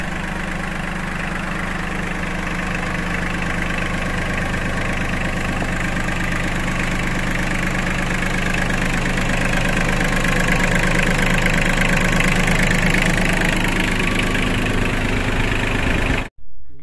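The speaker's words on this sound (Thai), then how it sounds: "เดี๋ยวจะมา ชมด้วยกันนะครับเกี่ยวกับเรื่องของเครื่องว่าเสียงมันนิ่มขนาดไหนนะครับ" An Iseki 27 hp tractor engine idles steadily for about sixteen seconds with a smooth, even mechanical hum, loud and close, then cuts off abruptly at the end.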